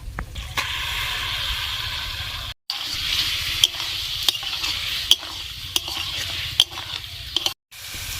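Chicken with tomato being sautéed in a pan, a continuous loud sizzle punctuated by repeated spatula scrapes and taps as it is stirred, with brief silent gaps.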